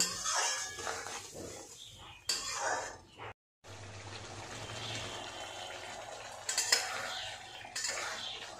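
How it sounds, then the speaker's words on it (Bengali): Spices with salt and turmeric are sautéed and stirred in a pan for a Bengali katla fish curry with potatoes, giving a steady low sizzle under repeated scraping and clinks of a spoon, with a short break partway through. "এবার ভালো করে কষিয়ে নেব"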